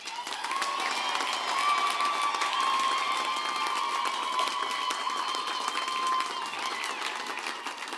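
Sustained applause from a large commencement crowd for graduate and professional degree graduates, steady and dense throughout with no talking.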